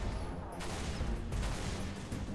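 Rapid, continuous firing of the needler weapon in Halo Reach, a dense, steady stream of shots with a few sharper bursts standing out, loud and unbroken throughout.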